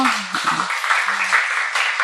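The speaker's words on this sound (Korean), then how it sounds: "박수해 드리세요" A church congregation at a Korean worship service breaks into applause, a dense, even patter of many hands clapping close by that continues for about two seconds.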